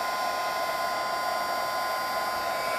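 A heat tool melts embossing powder on a faux metal focal image, its fan hissing at a constant, close and loud level with a faint steady whine running through it.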